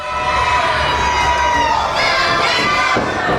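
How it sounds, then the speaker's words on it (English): Video game wrestling crowd cheering and shouting in a tag match, a loud continuous roar that swells louder midway, with no voices talking over it. "This crowd getting behind him here"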